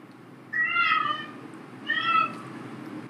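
A cat meows twice, about a second apart, each one clear and fairly close, over a low steady background hum.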